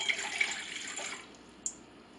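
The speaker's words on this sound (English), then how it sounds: "to my stand mixer, I'm going to add 3/4 of a cup of warm water" Warm water poured into a stand mixer bowl gives a steady splashing trickle that tapers off, followed by a brief light clink, heard up close without talk.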